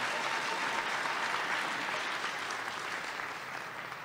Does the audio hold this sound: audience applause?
yes